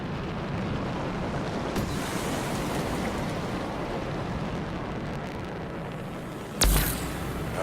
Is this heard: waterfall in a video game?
yes